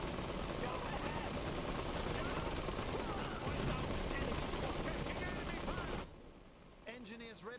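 Dense, continuous gunfire and explosions from units battling in the real-time strategy game Iron Harvest, with unit voice lines over the noise. The barrage cuts off abruptly near the end into quieter game sounds.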